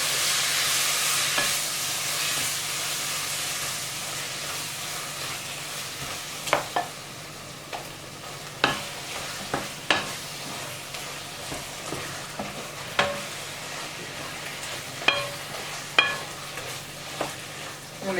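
Textured soy protein fries in leftover sauce in a pan, giving a steady close sizzle and hiss broken by repeated scraping, clacking stirs, with no voices.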